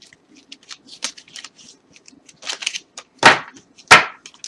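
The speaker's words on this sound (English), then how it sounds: "This is too many cards falling, so I'm going to shuffle them again" Tarot cards being shuffled by hand, a run of soft papery riffles and flicks with two sharper bursts near the end as the deck cascades, close and alone without talk.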